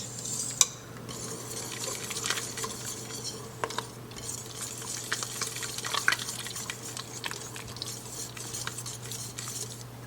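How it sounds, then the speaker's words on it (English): A utensil stirs blackberry jam with pectin in a pot: continuous scraping and light clinks against the metal, wet sloshing and bubbling, over a steady low hum, with no talking. "Stir vigorously. 1 to 2 minutes to dissolve pectin while mixture returns to a full boil"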